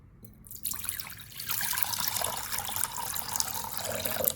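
Parsley being washed under running water, starting with a faint trickle, then a steady splashing stream into a sink that keeps going to the end, close and fairly loud.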